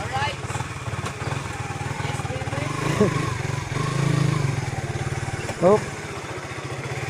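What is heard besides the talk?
motorcycle engine running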